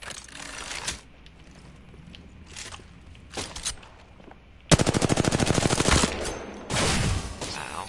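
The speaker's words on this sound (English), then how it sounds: "Getting shot at." Gunfire in the shooter game Apex Legends, a few scattered shots followed by a fast, loud automatic burst and another heavy volley, close and without speech.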